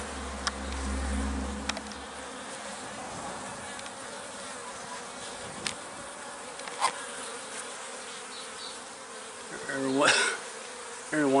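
Honeybees buzz close up at a hive entrance as they return carrying pollen. The drone stays steady and fairly soft, with louder swells each time an insect passes near, and no one speaks over it.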